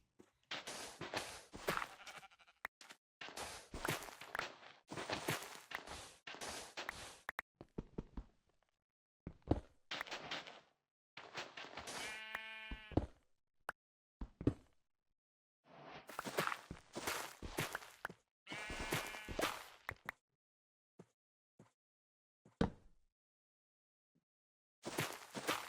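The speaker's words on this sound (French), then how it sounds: "J'entends un mouton." Sheep bleating in a video game, several separate wavering bleats spaced across the clip alongside repeated footsteps, moderately loud and close.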